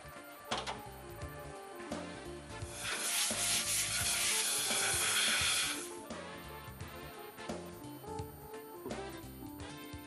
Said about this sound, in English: grind the seating surfaces with a grinding mandrel and carborundum number 500